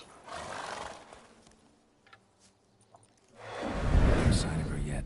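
Roach, Geralt's horse in the video game The Witcher 3, whinnies and snorts in two bursts, one at the start and a louder, closer one near the end, with a quiet gap between them.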